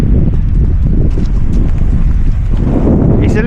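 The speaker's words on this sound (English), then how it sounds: "It's a little bit breezy down here, so I hope you can hear me all right." Steady wind buffets the microphone on a sunny Essex coast beside an estuary, a loud continuous low rumble filling the whole stretch with no clear pauses.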